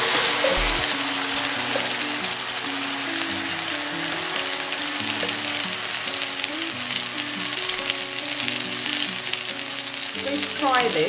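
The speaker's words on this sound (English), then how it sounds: "the spices are frying nicely. I'm going to add that onion and almond paste that I made." Spices with onion and almond paste sizzle and fry steadily in a pan for chicken yoghurt, a continuous loud crackle with occasional stirring scrapes and no talk.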